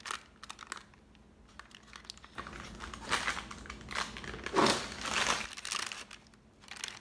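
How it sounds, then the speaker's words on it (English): Wax paper crinkled and handled while making homemade raw protein bars: close, dry crackling rustles in irregular bursts, quieter at first then louder and denser, with no talking. "But yeah, this is wax paper."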